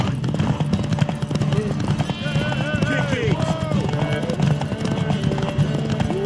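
Horse hooves clip-clopping at a steady gallop in the video game The Witcher 3, a continuous rhythmic thudding that stays under game music and character voices throughout.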